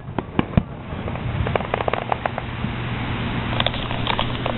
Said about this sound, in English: You can see the fireworks, right?